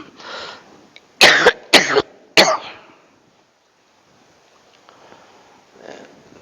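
A person coughs three or four times in a quick, sharp burst, close and loud, followed by near silence with faint background sounds.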